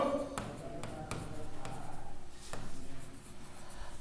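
A question is written on a classroom board during a grammar lesson, scratchy strokes broken by several sharp taps, close and moderately loud, with no talking over it.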